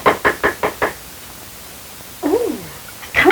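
Five sharp knocks on a door in a 1930s farm drama, evenly spaced and loud, followed by a pause and then voices speaking.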